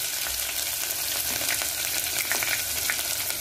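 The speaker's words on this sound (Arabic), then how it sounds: "أنا راح وضعت بالطنجرة قليل من الزيت، وراح أضيف البصل" Onions frying in hot oil in a pot, a steady dense sizzle with crackling bursts and faint stirring scrapes, close and continuous with no voices.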